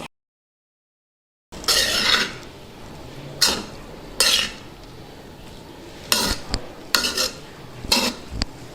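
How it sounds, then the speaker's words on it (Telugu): A spoon mixes mint rice in a metal pot after a moment of silence, producing clustered scraping and clinking strokes at an uneven rhythm, close and fairly loud, with no speech. "ఇది మొత్తం కలిసేలాగా కలుపుకుందాం"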